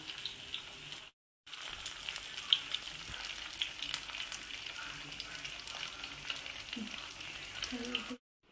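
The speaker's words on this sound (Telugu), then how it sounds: "చూడండి, నేను ఆయిల్ కూడా ఎక్కువ వేయలేదు, ఆ వేసిన ఆయిల్లోనే ఫ్రై చేశానండి." Fish pieces fry steadily in a modest amount of hot oil, a continuous close sizzle and crackle running throughout, briefly cutting out near the start, with occasional stirring clinks.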